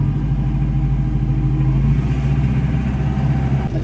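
A tractor engine runs steadily at close range, a low, even mechanical rumble that holds without pause through the short stretch.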